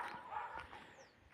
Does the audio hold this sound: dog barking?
yes